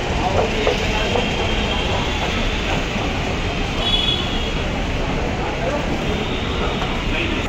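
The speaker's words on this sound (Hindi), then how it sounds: "ये आ गई जी अपनी मेट्रो" Continuous rumble and rattle of a Delhi Metro train arriving at a station close by, steady and loud, with a faint high whine above the noise.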